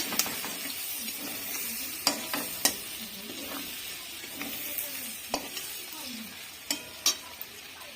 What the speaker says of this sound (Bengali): চিনি মশলা ভাজা হচ্ছে হালকাভাবে